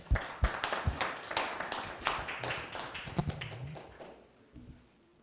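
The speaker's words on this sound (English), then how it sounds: "Let's give her a round of applause" Applause at a business lunch-and-learn gathering, a modest group clapping with distinct individual claps that thin out and fade away over about five seconds.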